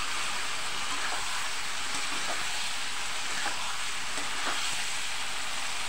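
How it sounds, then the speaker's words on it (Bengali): Potatoes and spice paste sizzle and fry in a pan over low flame for a potato and pea curry, a steady soft hiss with faint stirring scrapes, no voices. "এভাবে কিছুক্ষণ নাড়াচাড়া করে আমি আলুর সাথে খুব ভালো করে এটাকে মশলাটাকে কষিয়ে নিলাম"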